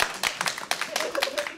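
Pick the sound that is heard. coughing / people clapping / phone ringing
people clapping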